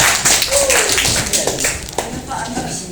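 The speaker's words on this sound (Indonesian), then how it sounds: "Tepuk tangan dong." A classroom of students claps hands in a short, uneven burst lasting a few seconds, with a teacher's voice and chatter over the clapping.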